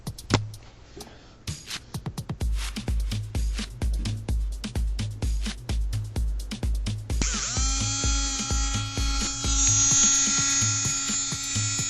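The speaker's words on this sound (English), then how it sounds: "it's running at half the voltage. New motor, new bushings, and so just let that run for a while" A new airsoft gun electric motor with new bushings runs at half voltage to break in. It starts with a fast series of rhythmic pulsing buzzes, then settles into a steady, loud, high whirring whine.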